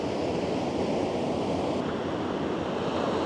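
Ocean surf washing against a rocky shore, a steady, dense roar of breaking waves with some wind noise mixed in, continuous and fairly loud throughout with no voices.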